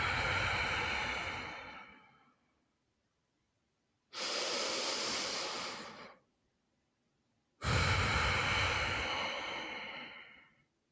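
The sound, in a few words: slow deep breathing in and out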